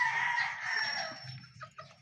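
A rooster crows once among straight comb chickens, a long loud close call that trails off, followed by softer clucks and low farmyard noise.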